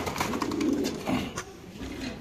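A racer pigeon at a pigeon market coos close by, a couple of low throaty rolls among faint bird calls and market background.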